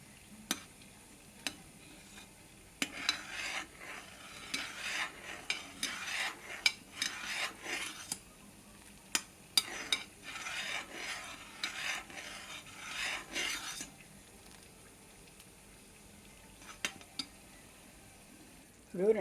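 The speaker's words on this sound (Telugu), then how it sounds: "వేసిన తర్వాత కలుపుతూ ఉండాలి, ఆగకుండా కలుపుతూ ఉండాలి. కలిపితే అప్పుడే ఇవి వేగుతాయి" Bondalu fritters frying in hot oil while being stirred continuously, a steady bubbling sizzle with scraping, rasping strokes of a ladle against the pan, close and fairly quiet, with no talking.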